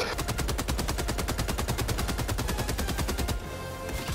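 Rapid automatic gunfire in the video game Helldivers II hammers out as a steady, evenly spaced stream of loud shots for over three seconds, then cuts to a lower rumbling background.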